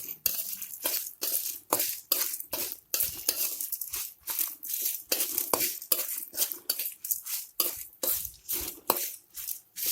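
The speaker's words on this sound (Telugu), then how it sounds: "మంచి వాసన వచ్చేంత వరకు వేయించుకోవాలండి." Ingredients being fried and stirred in a pan for a home-cooked dish, with a steady run of spoon scrapes and metal clinks against the pan over a low sizzle, close and fairly quiet, no talking.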